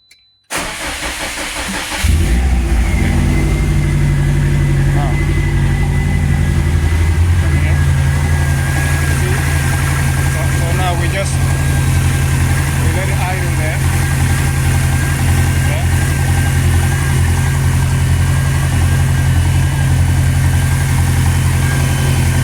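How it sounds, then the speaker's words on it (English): A Subaru car engine cranks and catches after a brief silence, then settles into a loud, steady idle with a constant low rumble that runs to the end, recorded up close. "start the car now."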